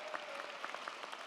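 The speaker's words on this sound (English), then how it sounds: "Please join me in a round of applause for our splendid choir" A commencement crowd claps in a dense, continuous wash of applause, moderately loud and steady for about a second.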